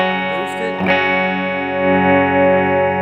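Electric guitar through a Bare Knuckle True Grit humbucker with a boosted, saturated tone, a strummed chord ringing out and sustaining, with a brief pick scrape near the start.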